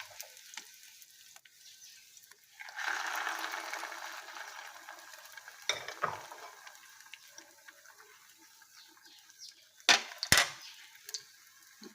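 A bread slice topped with egg fries in oil in a pan over low heat, a soft sizzle that swells after a quiet start and then settles, punctuated by occasional clinks and handling knocks, fairly faint and without talking.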